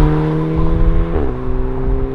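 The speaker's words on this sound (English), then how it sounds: "I love the way this car sounds for a four cylinder." A Volkswagen mk6 GTI with an APR Stage 2 tune, turbocharged four-cylinder engine and CTS turbo exhaust, idles with a steady, deep droning tone near the microphone, and a brief rise and shift in pitch comes about halfway through.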